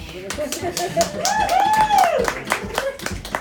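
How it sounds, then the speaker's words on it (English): Scattered audience clapping at a poetry reading in a bar, several people clapping unevenly in quick, close claps while a voice sings or talks over them. "we have to clap for that"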